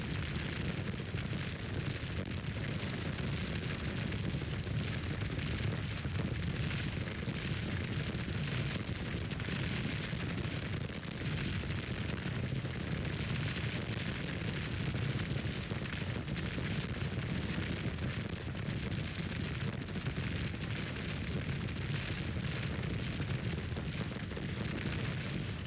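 Artillery fire in a Grand Tactician: The Civil War battle, a steady dense roar of booms and distant cannon rumble running continuously without pause, loud and low, with no voices over it.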